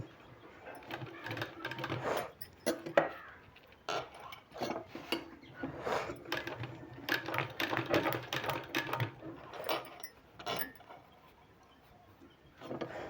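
A sewing machine stitches a sleeve seam for a designer sleeve in bursts of rapid mechanical clatter. The runs start and stop repeatedly, fairly close and moderately loud, with short pauses between them.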